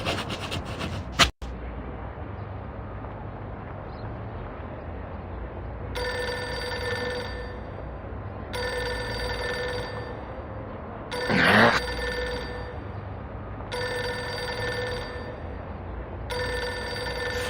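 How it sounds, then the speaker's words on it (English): A telephone in the video game Reverse 1999 rings in repeated bursts of electronic trilling over a quiet background, with a sharp impact early on and a brief louder noise between rings. "Pick up the phone already."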